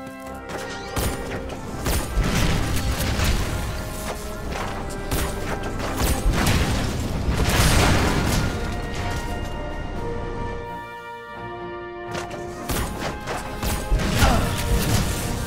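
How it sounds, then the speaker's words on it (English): Shockwave attack in the video game Knack smashing several targets at once: loud, dense crashes and heavy thuds in quick succession over a continuous game soundtrack, with a short lull before more smashing. "the shockwave can destroy multiple targets at once"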